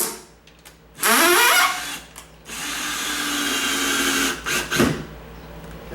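A power drill drives screws into a sagging door, with a short burst followed by a longer steady whirring run and a few brief trigger blips at the end, loud and close with no talk.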